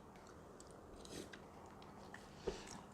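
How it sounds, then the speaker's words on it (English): Crisp cabbage being chewed with beef tteokbokki, a quiet close-up of soft crunching bites with a sharper crunch near the end and no talking. "Hear how the cabbages have remained crispy and crunchy?"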